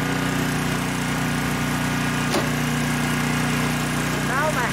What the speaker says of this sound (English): Started with the natural gas. Now we can connect the generator to my house power source.